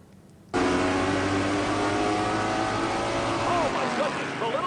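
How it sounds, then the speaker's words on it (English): The No. 21 Little Debbie race car roars on a track: after a brief quiet start, a loud, close engine drone kicks in abruptly and holds steady, with faint rising whines near the end. "the Little Debbie car is heading the wrong way"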